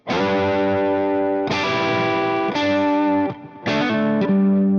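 A distorted electric guitar plays a short bluesy lick with sustained, bending notes and a few sharp attacks, loud and up close.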